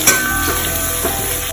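Chopped onions hit hot ghee in a pan for noodles, giving a loud, close, steady sizzle and crackle with a few stirring scrapes, no talking.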